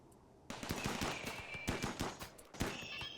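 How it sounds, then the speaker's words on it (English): Turrets in Rimworld firing on attacking Mechanoids: rapid bursts of automatic gunfire, crisp repeated shots in clusters with brief pauses, loud and close throughout the clip. "even with only a few turrets being able to fire, the attackers don't stand much of a chance"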